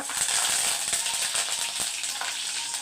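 Fenugreek seeds and curry leaves frying in hot oil give a steady close sizzle with small irregular crackles and pops, alone without talk.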